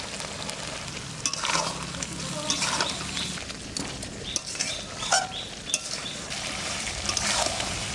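Spice paste with salt and turmeric sizzles steadily in hot oil for a mutton curry, with repeated scraping stirs close by and a voice talking intermittently over the frying.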